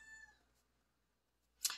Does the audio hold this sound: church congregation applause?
no